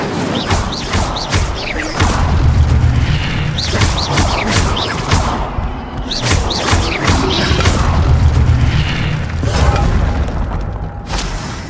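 Hogwarts Legacy spell effects whoosh and boom in repeated loud bursts, with crashes and magical swishes layered over a dense, continuous game soundscape and no talk.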